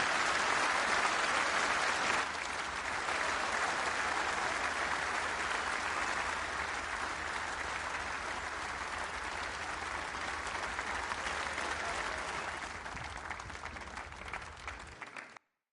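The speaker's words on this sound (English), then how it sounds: "just listen to the crowd. What an atmosphere." A snooker crowd applauds at the end of a championship match, with loud, sustained clapping that holds steady for several seconds before fading out.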